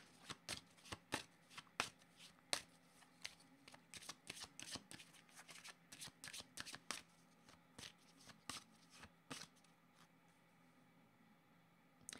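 Tarot cards riffled and shuffled by hand in a long run of quick, crisp flutters and taps that thin out near the end, faint and close-miked, with no talking.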